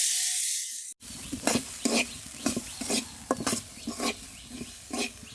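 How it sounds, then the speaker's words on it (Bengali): Kalai dal frying in oil with a steady close sizzle, while a spoon scrapes and stirs the pan in repeated strokes about every half second; the first second is a brief hiss before a sharp cut. "এবার কলাই ডাল গুনা তেলে ভেজে নিয়েছি"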